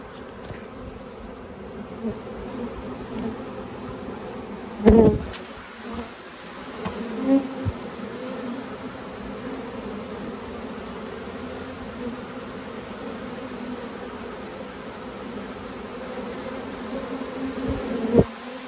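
A swarm of honeybees being hived in an apiary drones steadily and close, with a continuous buzzing hum throughout and a few louder bumps and knocks along the way.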